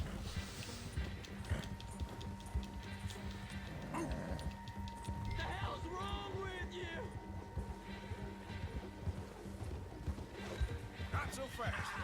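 Horse hooves clip-clopping in Red Dead Redemption 2 gameplay, with game sounds and a neigh under someone talking over it throughout.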